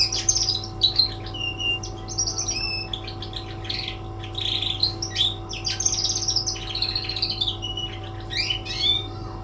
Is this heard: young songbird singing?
yes